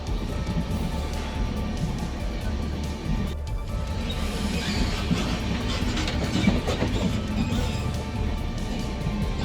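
Train running on rails, a steady loud rumble with rattling wagon noise and clatter throughout, no voices heard.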